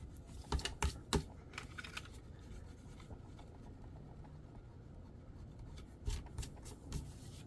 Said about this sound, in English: you might want to erase your little pencil marks too, little tick marks